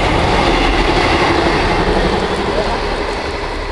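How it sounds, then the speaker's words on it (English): A train rumbles past nearby, a loud continuous roar of rolling wheels that eases slightly toward the end. "And there's the train."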